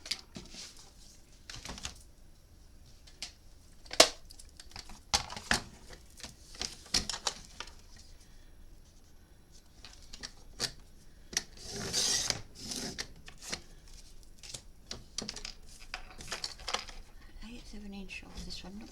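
Paper being trimmed by hand for a rose garden memory book, with scattered scraping and rasping strokes and a few sharp ticks, close up and fairly quiet, with stretches of lighter rubbing between cuts.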